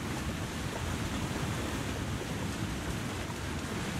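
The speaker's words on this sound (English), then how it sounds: "That waterfall is very loud." A loud, roaring waterfall in the snowy wilderness of the video game The Long Dark, heard as a dense, steady wall of rushing water noise that holds constant throughout without pauses.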